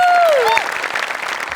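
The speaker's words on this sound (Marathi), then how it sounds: "गणेश पाजींसाठी एकदा जोरदार टाळ्या." A brief burst of loud applause for Ganesh from a comedy show studio audience, with a sliding whistle-like tone at the start before the clapping settles into a continuous crowd wash.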